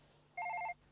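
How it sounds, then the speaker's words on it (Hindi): A telephone gives a single short ring, a clear electronic trill lasting under half a second against a quiet room background. "यार, एक और कंडोलेंस फोन।"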